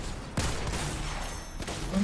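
Video game gunfire: two sharp, brief shots about a second apart punch through a busy background.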